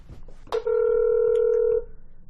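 A phone call to the Cuyahoga County, Ohio prosecutor's office: a short click, then a steady electronic tone held for over a second before it stops, loud and close with no talk.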